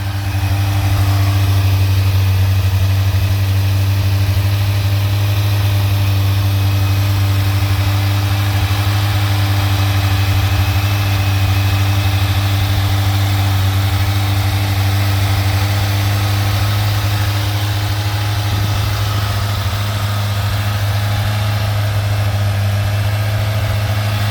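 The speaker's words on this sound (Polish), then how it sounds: "Zobaczcie jak to pracuje. Jak nowy motocykl" A 1998 Yamaha YZF 1000 Thunderace motorcycle engine idles steadily and close by, a constant low throbbing hum with no change in pace throughout.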